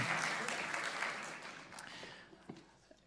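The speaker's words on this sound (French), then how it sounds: "Vous pouvez applaudir Mariette." Applause from an audience at a talk greeting a newcomer to the Télégramme newspaper, a steady clapping wash that fades over a few seconds into scattered last claps.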